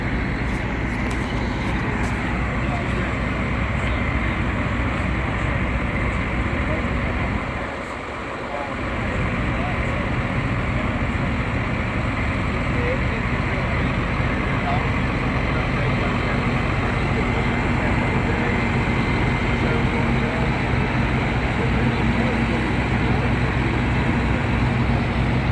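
A tractor tows one side of a PA system across the rodeo arena at the Greeley Stampede in Greeley, Colorado, its engine a steady, loud, broadband rumble that runs almost without a break, dipping only briefly partway through.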